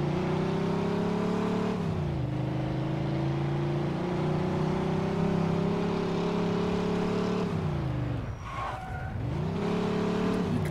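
In the video game Mafia 2, a car engine drones loudly and steadily as it accelerates, with the pitch rising in stages. Near the end the engine briefly drops away, tires squeal, and then it revs back up.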